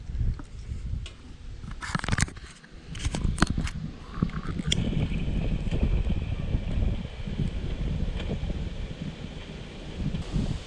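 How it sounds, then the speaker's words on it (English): A solid wind blows at an outdoor campsite beside a small cooking fire, a steady, broad rushing roar with gusty microphone buffeting. A few sharp clicks and knocks of handling come early on. "Got a pretty solid wind too though."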